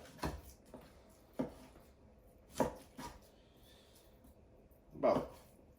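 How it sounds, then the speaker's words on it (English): A knife cutting chuck roast into cubes on a board, four or five distinct thuds spaced about a second apart in a quiet kitchen, with faint background sound between strokes. "I'm going to cut down into a little bit smaller cubes"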